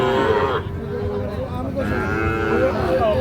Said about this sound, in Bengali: এই দেখছেন হাটের সেরা গরু